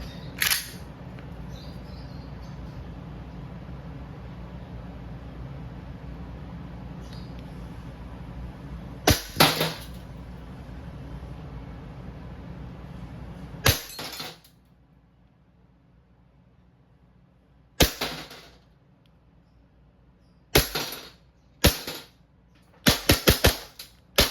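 WE Glock 19 Gen 5 gas blowback airsoft pistol firing, with a steady gas hiss under the first half, then a series of sharp close cracks, single and in quick clusters, against near silence.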